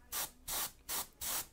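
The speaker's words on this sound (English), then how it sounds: "I'm spraying from all different angles." An airbrush sprays black primer in four short, controlled bursts, each a crisp hiss of roughly a third of a second with brief silent gaps between.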